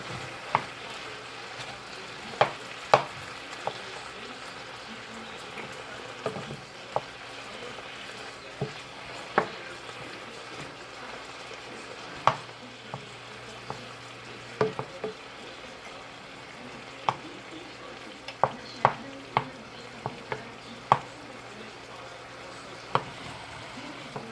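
Beef cooking in a pot for a pot pie, with a steady low sizzle and simmer throughout and occasional sharp clicks and scrapes of stirring; no talking.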